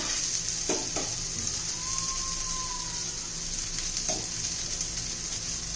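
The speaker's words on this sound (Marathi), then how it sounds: "आता साईडने आपण तेल सोडून घेऊया मध्यम गॅसवर आपण चांगलं फ्राय करून घेऊया" Hara bhara pea kebabs frying in oil over a medium flame, with a constant close sizzle and crackle and a couple of brief spatters, no talk.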